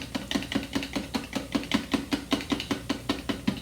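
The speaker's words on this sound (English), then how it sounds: "we're just going to sort of mix our milk and butter together" Milk and butter are stirred together in a bowl for bread pudding, making a quick, even series of wet, tapping strokes, about four or five per second, close and moderately loud with no talk.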